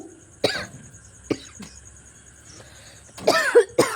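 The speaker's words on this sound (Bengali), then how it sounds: "কাশি উঠে গেল একদম" Someone in a gas-filled kitchen while cooking coughs several times, sharp separate bursts spread out and then a closer, harsher cluster at the end, fairly loud and with no speech.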